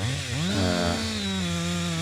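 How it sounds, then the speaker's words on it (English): A small chainsaw with a sharp, smaller chain cuts into a red oak log, its engine snarling loud and close and dipping in pitch as the chain bites, then holding a steady whine. "Also again with the smaller chainsaw"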